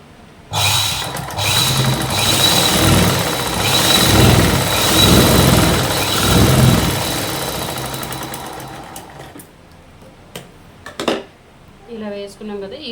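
A sewing machine stitches a bed sheet cover, running in one loud, continuous whir for about eight seconds before stopping, followed by a few handling knocks and a voice near the end.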